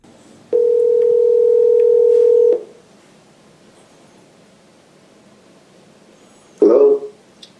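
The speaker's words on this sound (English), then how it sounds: "And now here's a sample test call using an iPhone." A steady telephone dial tone from an iPhone test call on an eMeet Luna speakerphone holds for about two seconds, then quiet line hiss, ending with a short electronic burst.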